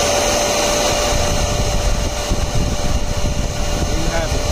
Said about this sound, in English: And let's turn on the vacuum now.